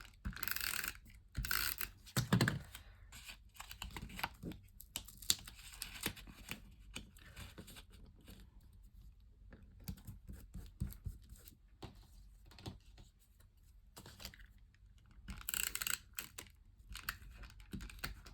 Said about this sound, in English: I don't know why I'm using this tape runner instead of my other one